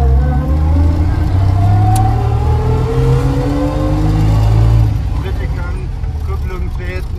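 A small engine of an IFA Barkas Framo van from VEB Barkas-Werke Hainichen hums and revs steadily, its pitch climbing then dropping as it shifts into second gear about two-thirds through, with faint talk over it.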